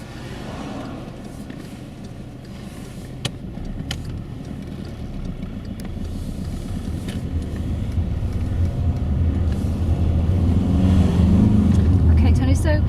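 Car engine rumbling steadily and building in loudness as the vehicle pulls away from the kerb on a residential street, heard from inside the car, continuous and close.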